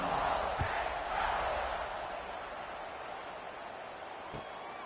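A football stadium crowd before kickoff at a Boise college game, a broad, sustained roar of many voices from a distance, swelling and easing slightly with a few sharp shouts rising above it, moderately loud throughout.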